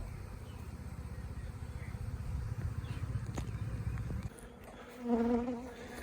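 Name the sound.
swarm of bees around a hive box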